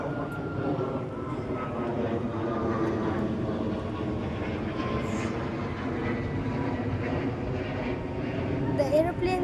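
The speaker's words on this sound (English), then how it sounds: "The aeroplane just went." An aeroplane passes overhead near a tea resort in Siliguri, a steady broadband engine roar holding throughout at moderate loudness, with no clear speech.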